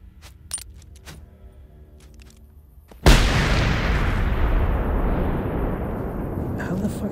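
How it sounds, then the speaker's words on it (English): A grenade in the video game Generation Zero bursts with a sudden loud blast and then a long, dense rumbling roar. Quiet game ambience and faint clicks come before it. "Here, I'm gonna throw a grenade in there."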